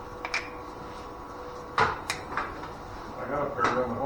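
A drawer in a garage workshop opens and shuts with a few short knocks and slides, close by, while someone talks in the background.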